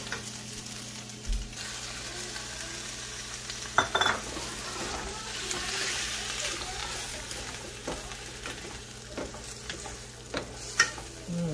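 Restaurant-style Chinese garlic pepper chicken gravy, thickened with cornflour water, stirred in a hot pan: a soft, steady sizzle with sporadic spoon scrapes and clinks against the pan.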